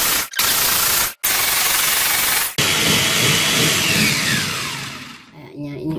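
A food processor runs in loud whirring pulses, stopping briefly twice before a longer spin that winds down, as it purees snack batter.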